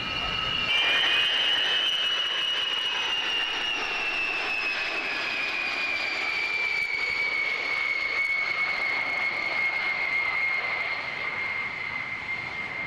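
A B-52 bomber passes overhead with a steady, loud jet roar and a high whining tone that slowly drops in pitch, continuous and unbroken throughout.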